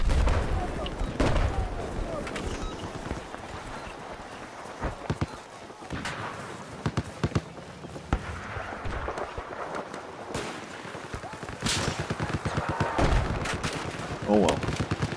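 Battlefield 4 gunfire rattles throughout, with repeated sharp shots, bursts and heavy booms mixed with battle noise, while a player occasionally speaks over it.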